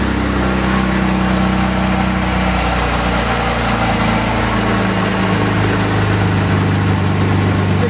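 A 1968 Jaguar E-Type Roadster engine idles close by, a constant low rumble with a faint mechanical hum, unchanging throughout with no voices.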